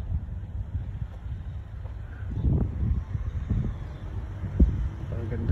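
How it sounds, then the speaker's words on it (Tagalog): Wind blowing across the shore of Amwaj Island in Bahrain, a low continuous buffeting rumble with gusty swells against the microphone and a faint background hum. "So mahangin dito."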